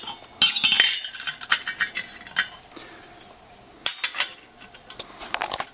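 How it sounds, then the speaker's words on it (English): Metal and ceramic clinks and scrapes as a hookah ashtray is set down onto the stem, a close run of sharp taps and rattles, with no one speaking. "Now place the ashtray on the stem."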